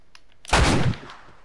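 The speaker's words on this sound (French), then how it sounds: "c'est un petit pistolet mais avec une lunette" A single loud, booming shot bursts from a small scoped pistol in The Last of Us, then quickly fades into near silence.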